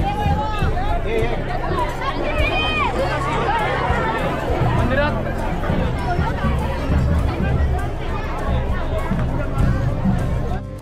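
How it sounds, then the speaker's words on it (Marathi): Dense crowd chatter at Ratnadurg Fort in Ratnagiri on Shiv Jayanti, a continuous loud babble of many voices close by, with no pause. "शिवजयंती असल्यामुळे किल्ल्यापर्यंत जाताना भरपूर अशी गर्दी पाहायला मिळाली।"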